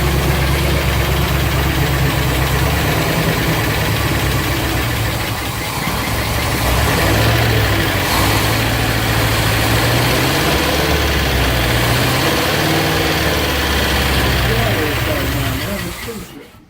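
A 1972 Range Rover engine, running without a cooling system and with a loose exhaust, idles loudly with a rough, knocking low rumble and a brief surge of revs, before cutting out at the end.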